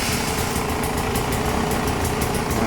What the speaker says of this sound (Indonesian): Kita lihat motor 3 tahun pemakaian, situasinya masih jos, kondisinya masih oke, tenaganya masih mantap, knalpotnya renyah, FMF Gold Series